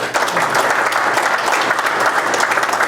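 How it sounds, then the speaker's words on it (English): Loud, sustained crowd applause at a public forum on a bypass extension as local officials are introduced, dense and continuous throughout without pause. "Hold the applause down."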